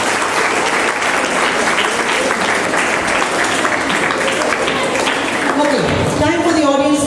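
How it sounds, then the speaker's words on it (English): A school audience at an English Day quiz claps for the red house in loud, sustained applause from a large crowd; near the end the clapping thins as a voice begins speaking. "Can you please give them a clap after round 1?"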